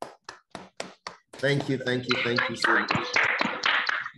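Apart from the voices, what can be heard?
audience applause after a lecture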